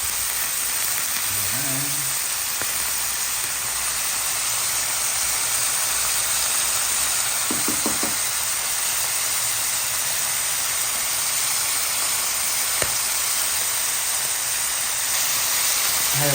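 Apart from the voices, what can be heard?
chicken liver frying in a pan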